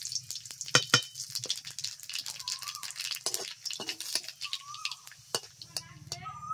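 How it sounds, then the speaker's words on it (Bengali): Dry red chillies and nigella seeds crackle and sizzle in hot mustard oil in a wok, a dense steady frying hiss with scattered sharp pops and light clinks of stirring, heard close up without talk. "কড়াইতে দিয়ে দিলাম শুকনো লঙ্কা,"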